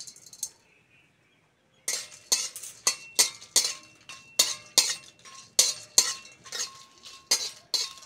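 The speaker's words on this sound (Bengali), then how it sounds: "কাবলি ছোলাটা সিদ্ধ করার আগে মশলাগুলো একটু কাঠখোলায় ভেজে নেব।" Whole spices dry-roasted in an iron wok as chickpea curry gets underway, stirred with a metal spatula: a brief clink, a pause, then a steady run of sharp scraping strokes against the pan, close and clear.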